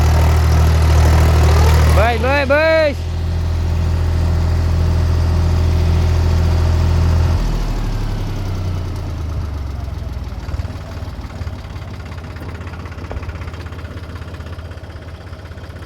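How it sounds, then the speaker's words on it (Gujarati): A farm tractor engine rumbles with a deep, steady idle that shifts partway through, and people talk nearby over the engine noise. "આવી ગયો ટ્રેક્ટર."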